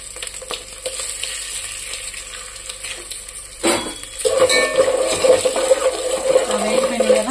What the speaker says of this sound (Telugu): ఉల్లిపాయలు వేస్తున్నాను. ఎండుమిర్చి వేస్తున్నాను.